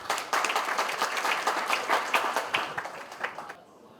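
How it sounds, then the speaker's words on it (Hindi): An audience at an achievers' recognition ceremony bursts into loud, dense applause that carries for several seconds, then cuts off abruptly. "मैं उनके लिए जोरदार ताली चाहती हूँ।"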